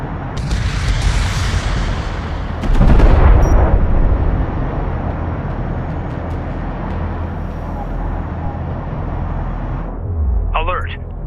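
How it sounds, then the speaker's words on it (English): Heavy turret emplacements firing on a fleet in Homeworld: Deserts of Kharak, a loud booming burst of artillery-like impacts followed by sustained rumbling battle noise, with voices talking over it. "The fleet is taking fire from heavy turret emplacements"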